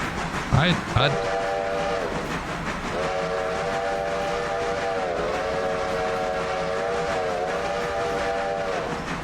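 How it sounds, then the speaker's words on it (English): Steam locomotive whistle in the Railroader train simulator game, quilled with rising and falling pitch in one long sustained blast after a brief burst of noise, loud and steady over a constant engine rumble. "V plus move mouse up and down to quill the whistle?"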